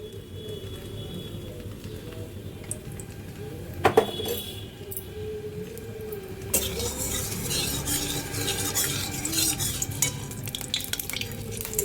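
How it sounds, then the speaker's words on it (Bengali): Oil goes into a hot kadai for cooking shol fish, with a clink of utensils followed by a steady sizzle and stirring that carries on to the end, close by and without speech. "এবার কড়াতে তেল দিয়ে দেবো।"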